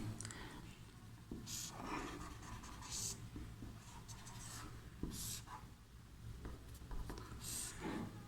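A pen draws a pi network circuit diagram on paper, making soft intermittent scratching strokes with short pauses between lines, faint and close.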